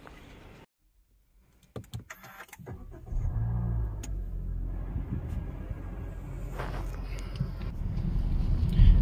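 A Honda City with a 1500cc VTEC engine starts up after a brief silence and a few mechanical clicks, then settles into a steady low engine rumble heard from inside the car that swells gradually toward the end.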